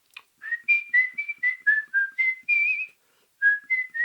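A woman whistles a bright, clear tune in a run of short, lilting notes, pausing briefly before a final few notes, close and alone.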